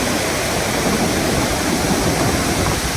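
The Iguazu waterfall roars as a loud, unbroken wall of rushing, crashing water, close and constant with no voices.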